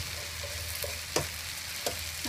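Yakisoba noodles stir-fry in a little oil in a pan, a steady close sizzle broken by a few sharper scraping clinks as the noodles are pushed around.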